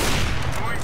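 A rapid burst of gunfire in Counter-Strike: Global Offensive as a player pre-fires likely enemy spots, a loud, dense volley lasting under a second.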